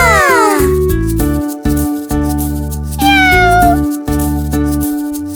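A cat meows several times over bright background music, the cries rising and falling clearly in the foreground.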